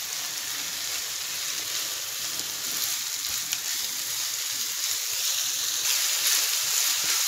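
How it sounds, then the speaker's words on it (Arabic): Minced meat frying with yellowed onions in a pan, a steady close sizzle and crackle with soft stirring, no voices. "هنزل بقى باللحمه المفرومه بتاعتي"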